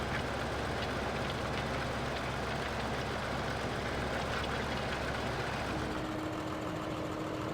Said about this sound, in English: Then I'll take this tractor.